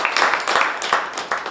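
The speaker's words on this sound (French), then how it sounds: "donc je pense qu'on peut tous applaudir" Audience applause at the close of a French-language evening talk about building and maintaining an open-source React Native library; dense, steady clapping from a crowd, fairly loud and continuous throughout.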